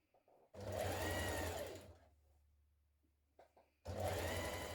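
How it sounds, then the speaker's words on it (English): An overlocker finishes the neckline of a scrap-fabric t-shirt in two loud, fast mechanical whirring bursts, separated by a quieter pause with light handling noises. "I thought I would just overlock it and then fold it back like this"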